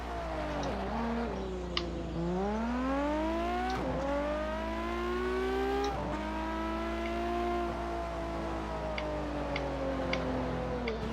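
Car engine in the Test Drive Unlimited 2 racing game, a steady revving tone with rising and falling pitch through gear shifts, several brief gaps or shift points, continuous and fairly close for the whole stretch.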